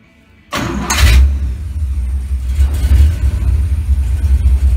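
A Chevrolet Chevelle SS from 1970 to 1972 cranks and starts after a brief silence, then settles into a loud, rumbling idle with slight revving, close and alone.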